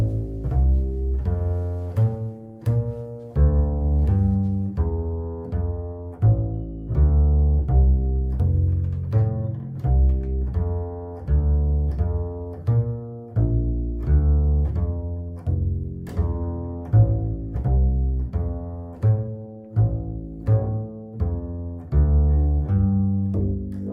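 Bass guitar playing a melodic bass line alone, a steady stream of plucked low notes in a moving rhythmic pattern, close and clear with no talking.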